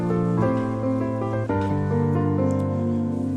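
A soft string voice on a keyboard set for worship, smooth sustained chords moving through a few changes, steady and full, played alone without speech.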